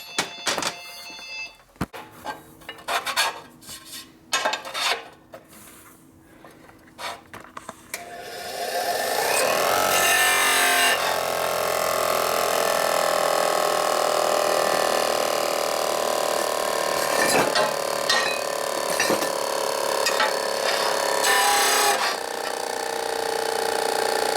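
A grinder works on 1942 Harley-Davidson WLA/WLC 45ci transmission parts, shortening them: a steady, loud continuous whine and grinding roar starts after some scattered shop clatter and runs unbroken, with brief changes as the metal is worked.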